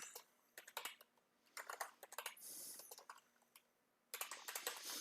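Rapid bursts of typing on a computer keyboard, quiet and close, with clustered key clicks broken by short pauses and a brief steadier stretch in the middle.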